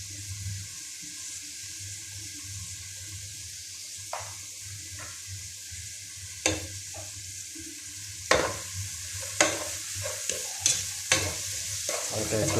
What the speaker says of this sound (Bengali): এটা একটু ফ্রাই করে নেব।